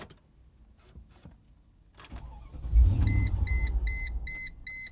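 A Mercedes-Benz ML55 AMG with a fault cranks over, the engine catching with a loud rumbling surge that fades as it dies, while a repeating electronic warning chime beeps steadily after some faint clicks beforehand.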